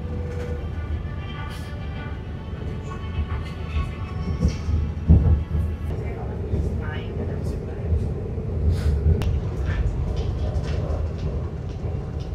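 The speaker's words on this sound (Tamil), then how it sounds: "இப்போ வந்து பார்த்தீங்கன்னா KLIA1 டெர்மினல் 1ல் வந்து ட்ரெயின் நிற்கிது" Airport rail train pulling into KLIA Terminal 1 station, a low rumbling roll with rattles and clunks as it slows to a stop, with people talking nearby.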